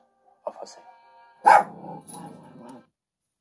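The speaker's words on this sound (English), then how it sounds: "Sorry for the barking and the growling. It was my dog." A pet dog barks sharply once, then a loud burst of barking gives way to low rumbling growls that fade out, with a voice speaking briefly over the start.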